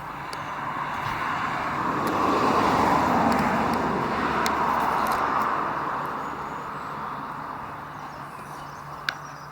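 A Volvo 740 car drives on the road, a steady broadband engine and tyre rumble that swells to a peak midway and then settles, with no voices.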